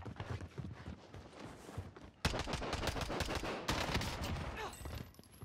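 Unsuppressed Tech 9 gunfire in the Warzone video game comes as rapid bursts of sharp, loud shots, one burst cutting in abruptly mid-clip with another following, against game footsteps and ambience.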